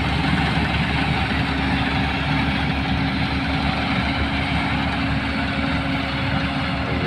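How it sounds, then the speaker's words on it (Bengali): A grass-cutting machine engine runs steadily and loudly throughout in Saudi Arabia, a continuous droning idle with a low hum and no break. "মেশিনে কাটতেছে ঘাস"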